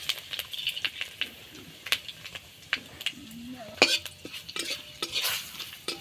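Bay leaf and dried red chili frying in oil in a pan, with soft crackling and intermittent stirring clinks of a utensil against the pan, close and fairly busy.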